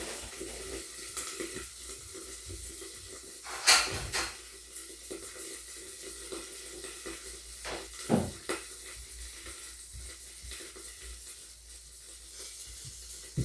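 Oil spits and crackles in a pan of Korean fried dumplings after water is poured in, with sharp spattering bursts standing out twice over a low, continuous sizzle.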